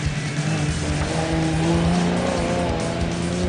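An old Nissan Safari off-road race car drives past in steady, loud engine drone with strong low harmonic tones and continuous tyre and gravel roar, at an off-road race event, no talk.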